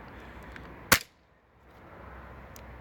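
An airsoft gun fires a single sharp crack at a box, followed by a short quiet gap, over faint outdoor background noise.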